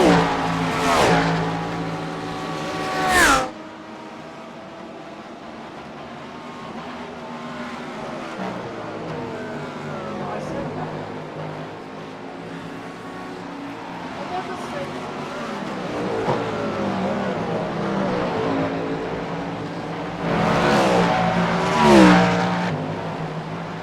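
LMP prototype race car engines in a racing video game, practice at Watkins Glen: steady engine drone with rising and falling revs, a couple of sharp louder passes near the start and end, under a voice.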